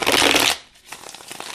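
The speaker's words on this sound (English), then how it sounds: "I like the cardstock because I can riffle shuffle it." Numinous Tarot cards are riffle shuffled up close with a loud, dense flutter of cardstock for about half a second, followed by softer light shuffling and tapping as the cards settle.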